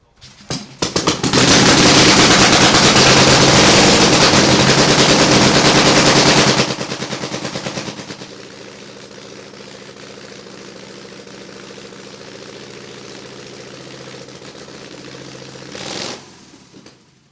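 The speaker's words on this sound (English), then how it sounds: "We're going to pedal it, and hopefully she'll fire up." A vintage 8-valve racing motorcycle engine is pedal-started, bursts into a loud, rapid staccato roar for several seconds, then drops to a steady, lumpy idle with a brief rev near the end.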